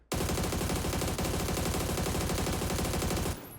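Sustained automatic fire from an AUG rifle in PUBG, a loud, rapid, evenly spaced burst of shots lasting about three seconds before cutting off abruptly.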